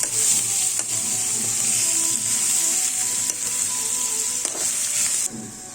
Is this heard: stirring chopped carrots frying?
yes